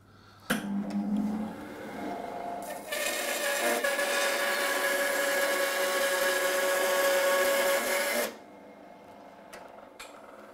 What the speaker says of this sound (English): We're just going to cross cut a bit of maple, but you've got a 1 horsepower motor